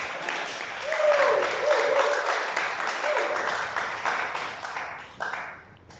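A church congregation bursts into sustained applause to acclaim the Lord, a dense roomful of clapping with cheering voices over it that holds steady and then tapers off near the end.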